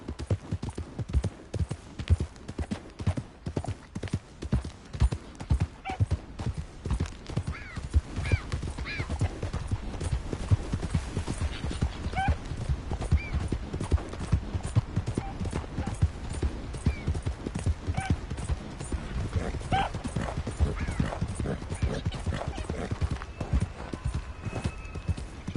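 Horse hooves clip-clop steadily in Red Dead Redemption 2, a continuous rhythmic trot of close, fairly loud hoofbeats lasting throughout, with occasional faint whinnies and no talk.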